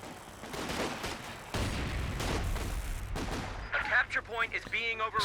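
Mortar pit fire in the Company of Heroes 2 battle, a dense run of booming shots and gunfire throughout, with sharp bursts and a chirping, whistling effect near the end, loud and close with no talk over it.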